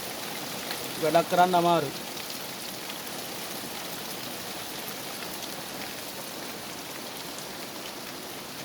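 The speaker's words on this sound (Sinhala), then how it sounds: "ඔය වහින විදිය ඔය හොඳටම වහිනවා" Heavy rain pours steadily over a betel leaf plantation, a dense, even hiss that continues throughout, while someone speaks briefly near the start.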